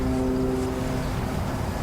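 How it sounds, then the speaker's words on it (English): A train passing near Fort Griswold Battlefield State Park, heard as a steady loud rumble with a sustained tonal hum, like a horn or engine drone, continuous across the short outdoor stretch with no talking. "And then you got a choo-choo train."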